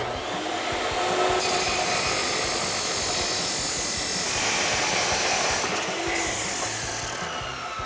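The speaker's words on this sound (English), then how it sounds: "You can now make your mark on your inlet pipe, letting you know where to cut. And now you can make your cut." A power tool whines continuously while cutting an exhaust inlet pipe to length for a Pypes Violator dual rear exit system on a 2011-2014 Ford F150 3.5L EcoBoost, steady and close, with slight shifts in pitch as it bites.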